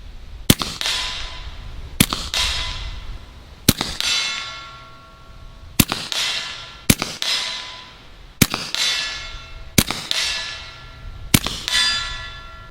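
Eight loud, evenly spaced shots from a Bintac T9 at about 60 yards, each followed by a ringing metallic clang from a steel target, outdoors with no talking.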